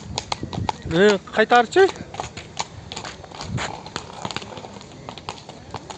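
A horse walks at a horse market near Sokuluk, Bishkek, its hooves clip-clopping in a steady, uneven rhythm close by, while people talk over and around the footfalls.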